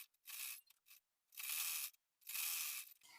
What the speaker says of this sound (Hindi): अब हम यहाँ पर 1/2 इंच का मार्जिन लेते हुए पूरे में यहाँ पर सिलाई लगा लेंगे